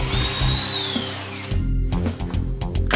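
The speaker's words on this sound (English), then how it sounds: "producing a slanting borehole using the undercover jig and the twist drill" A power drill with a twist bit whirs steadily at close range, its motor pitch shifting slightly as it bores a slanted hole into wood through a Wolfcraft UnderCover jig, with a brief change in load midway.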